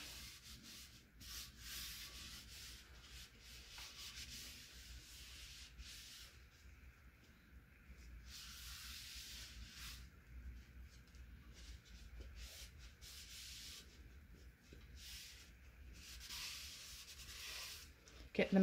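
Soft, steady rubbing and wiping strokes of a dry paper towel on a vintage wooden salad bowl, close by and continuous, with brief pauses between passes and no talking over them.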